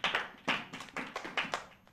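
A small group of children at a Sunday church service claps hands in quick, uneven bursts, close and fairly faint, with no talking.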